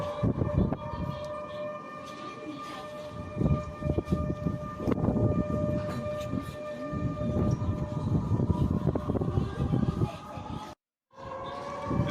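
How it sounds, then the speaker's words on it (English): Flood evacuation sirens in Orenburg, Russia sound a sustained, steady, droning wail that carries across a noisy outdoor background, continuous throughout apart from a brief cutout near the end. "It's incredibly interesting to hear the flood sirens going off and the evacuation alarms."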